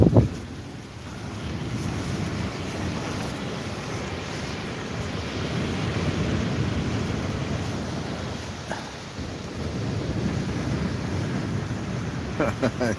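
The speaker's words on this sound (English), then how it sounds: "It looks a little bit windy, mate. Trust me, it is." Strong wind buffets the microphone on a wet, windy beach, a steady broadband roar with gusting surges and faint surf underneath, continuous and loud throughout, with no speech.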